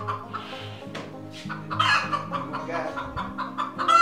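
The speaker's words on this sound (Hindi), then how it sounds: "ये एक मुर्गा है," An Ayam Cemani rooster clucks close by, a series of short throaty clucks and calls over a low background hum, with a person talking quietly at moments.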